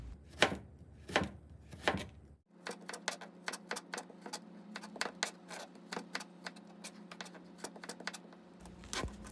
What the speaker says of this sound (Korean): 이제 얇게 채 썰어줍니다.